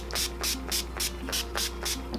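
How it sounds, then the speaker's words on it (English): Setting spray misted onto a face from a pump bottle, eight even hissing bursts in steady rhythm, close and clear over a low steady hum. "for the setting spray, this helps last longer and I really love it."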